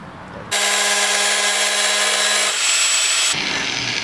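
A power tool cuts squares out of the metal body of a 1974 Volkswagen Kombi van under restoration, starting abruptly into a loud, sustained, grinding whine close by, then stopping and trailing off near the end.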